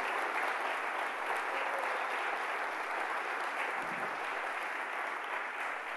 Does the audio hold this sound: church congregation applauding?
yes